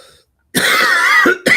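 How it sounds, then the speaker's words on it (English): A single harsh cough, close and loud, followed by a brief second burst of throat noise after a short pause. "excuse that cough."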